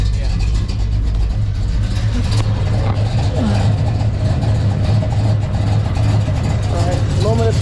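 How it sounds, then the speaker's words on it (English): A 1970 Oldsmobile Cutlass with custom exhaust tips idles close by, a loud, steady, deep rumble throughout, with a voice talking over it. "The idle does need to be raised a little bit."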